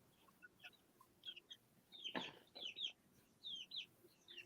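Soft high-pitched chirps and peeps come in scattered bursts, with a few louder clucks mixed in, all fairly faint.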